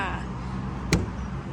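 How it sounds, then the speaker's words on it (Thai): The door of a black four-door, high-riding X-Series pickup with an automatic gearbox and a 1900 cc engine opens with a single sharp click over steady outdoor background noise. "เดี๋ยวเราเปิดประตูเข้าไปชมภายในกันค่ะ"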